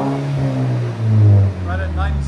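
A 2019 Volvo S60 T6 2.0L turbo with a Vibrant exhaust and muffler delete idles with a deep drone, then swells once into a brief rev before settling back, heard up close.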